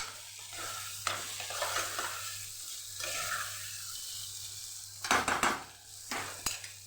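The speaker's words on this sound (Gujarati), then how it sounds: "બટેકાને સરસ આપણે મિક્સ કરી દઈશું એટલે આપણો મસાલો નીચેથી બેસી ન જાય" A spoon stirs potatoes through a spiced oil tempering in a pan for a Kathiyawadi spinach-and-potato dish. A soft sizzle runs throughout, with scraping strokes and, near the end, a brief cluster of louder metallic clatters.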